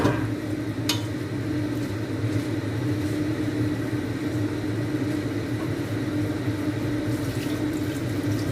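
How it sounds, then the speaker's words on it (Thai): Water pours steadily into a pot of pork belly being readied for a braised egg dish, a continuous close rushing wash with a low gurgling body that keeps going without a break. "ใส่น้ำได้เลยค่ะ"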